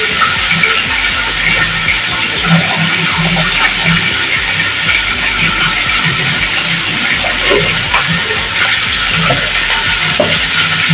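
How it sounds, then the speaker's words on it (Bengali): Meat fries for ghugni in a pan, giving a steady, loud sizzle across the whole stretch, with soft scraping and knocks of stirring underneath and no talking. "মাংস ভাজবো।"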